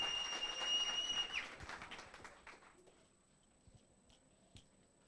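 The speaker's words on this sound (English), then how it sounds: "Let's give her a round of applause" Applause from the audience at a business strategy workshop in Botshabelo, Free State, rising loudly at the start and then thinning to scattered claps that fade toward the end.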